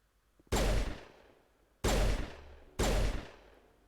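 Three heavy gunshot blasts from the Mass Effect video game, each a sharp loud report with a long decaying tail, spaced about a second apart, with no talking.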